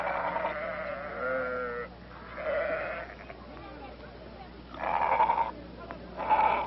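A flock of sheep bleating in repeated calls, several drawn-out bleats from one or more animals at moderate distance, separated by short pauses, with no clear talking.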